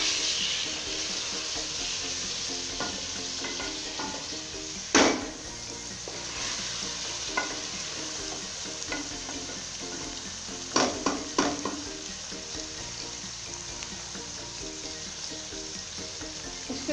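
Tomatoes sizzle in a pan with minced meat and bitter gourd, a steady frying hiss broken by clattering stirs and a sharp burst near the middle, with no voices.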